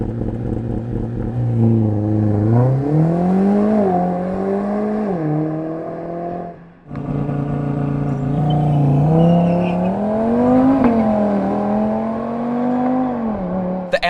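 An Audi RS Q3's 2.5-litre five-cylinder engine accelerates hard, loud and close, its revs climbing through the gears with a brief dip at a shift before pulling strongly again.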